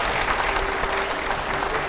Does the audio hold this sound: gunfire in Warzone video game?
no